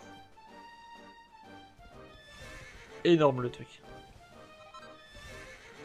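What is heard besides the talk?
horse neighing and hooves in Dragon Quest 11 video game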